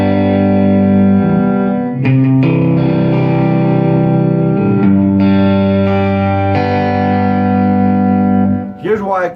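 A heavily distorted electric guitar rings out in big sustained chords, swelling with chorus and echo effects, loud and up front, several strummed hits blending into a wide, droning wall of sound.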